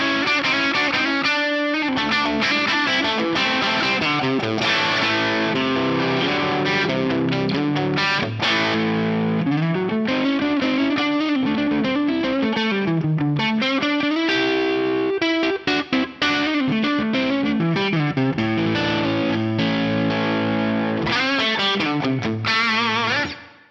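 Electric guitar played through a Matchless amp capture on a Sonulab Stomp Station, a continuous driven, lightly distorted tone with strummed chords and melodic runs at steady loud level for the whole stretch, no voice.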